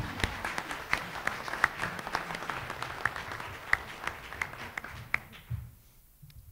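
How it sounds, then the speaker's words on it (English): Scattered applause at a county candidates forum, fairly sparse with distinct individual claps over a low murmur, fading out near the end. "If you guys want to applaud for those two,"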